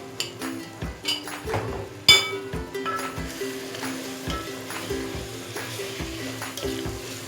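Tomato, coriander, mint, onion and yogurt paste frying in a pot for chicken masala biryani, a steady close sizzle broken by sharp clinks and knocks of a spoon stirring against the pan.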